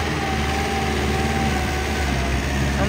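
A modified New Holland 5630 tractor with extra weights fitted runs close by, its engine droning steadily and loudly throughout while the tyres slip and spin.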